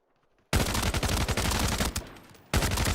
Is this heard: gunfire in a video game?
yes